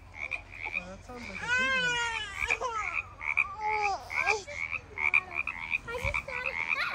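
Frog croaking near the water during an outdoor frog hunt, repeated pulsing calls running steadily through the whole stretch, with people talking over it at moderate distance.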